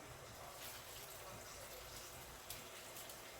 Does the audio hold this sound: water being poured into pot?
yes